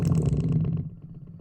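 A short, deep liquid-style sub bass synthesized in Serum with its boom decreased, a soft low rumble that decays quickly over about a second, heard alone.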